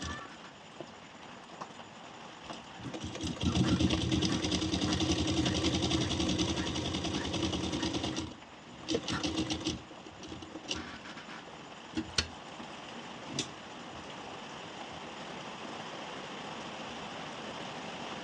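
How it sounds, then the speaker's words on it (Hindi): A sewing machine stitches a blouse neckline in a sustained rapid whirring run for about five seconds, followed by short bursts and scattered clicks as the fabric is adjusted, with no speech. "जिस तरह हम इस पर सिलाई कर रहे हैं"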